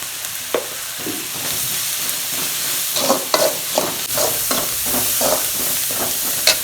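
Ground tomato and salt sauté in a pan for butter chicken masala, a steady sizzle broken by repeated spoon scrapes and stirs in the second half. No one speaks.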